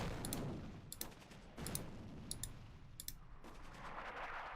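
Faint gunfire crackles in the Attack at Dawn: North Africa wargame, with several short bursts of sharp shots spread over a low background hum.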